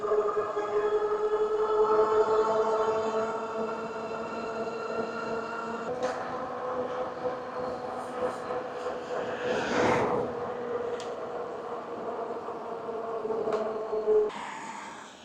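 A Kingbull Hunter 2.0 electric fat tire mountain bike with a new controller accelerating, giving a steady, close electric motor whine with layered harmonic tones over wind rush, shifting pitch slightly partway through, no talking.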